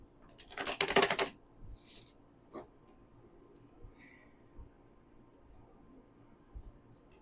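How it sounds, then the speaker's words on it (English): A quick burst of riffling cards near the start, followed by scattered soft taps and shuffles in an otherwise quiet room. "this deck does not shuffle goodly. Or maybe I just suck at shuffling"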